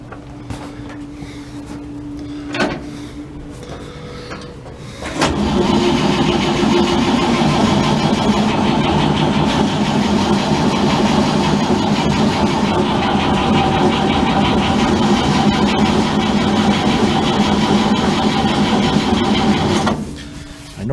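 A carbureted engine cranks briefly, then catches and runs at a steady, loud idle for about fifteen seconds before shutting off, with quieter mechanical ticking beforehand.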